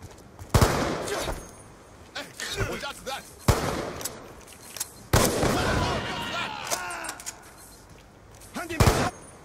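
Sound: gunfire from a video game

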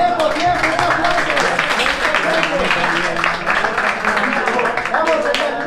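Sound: audience applause at rap battle

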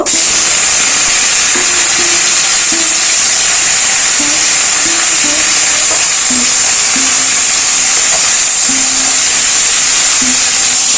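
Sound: chopped tomato sizzling in hot oil with bay leaf and chilli

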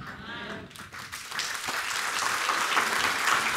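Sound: audience applause during a church sermon

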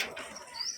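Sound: pigeon cooing

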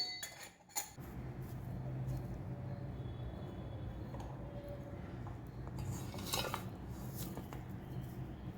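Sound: fitting star-shaped disc into murukku press

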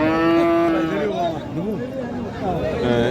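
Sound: Sahiwal bull mooing at cattle market

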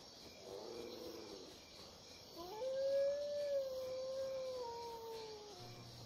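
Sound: howl of a puppy or wolf in the video game Valnir Rok

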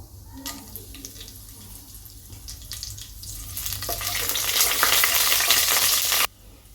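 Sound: whole spices (peppercorn, cardamom, clove) frying in oil

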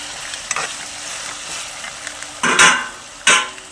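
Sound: fish curry masala frying in a pan

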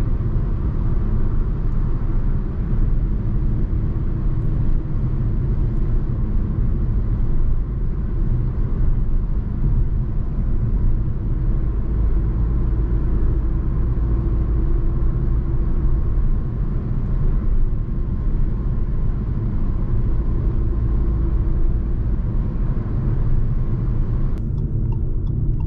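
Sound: 2021 Fiat Egea Cross driving on road

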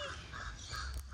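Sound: crow cawing

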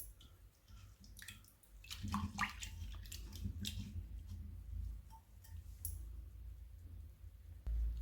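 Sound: water poured off rinsed lentils

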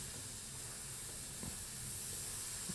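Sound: airbrush spraying paint

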